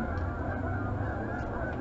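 Canada geese in a large flock flying across a river give a brief, steady stretch of overlapping honks, distant and even in loudness, with no voices.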